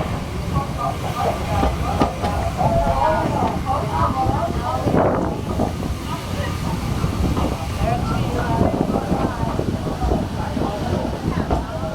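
Steam train rolling along tracks, a continuous loud rumble and rattle of the carriages with faint rhythmic clatter, steady throughout with no talk.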